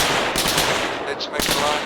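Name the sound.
gunfire in Arma 3 (video game)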